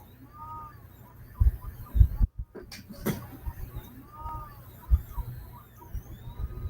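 A 3D printer running in a room gives off a faint whirring motor whine with soft rhythmic whacking thumps and a few louder knocks, partly under a speaking voice.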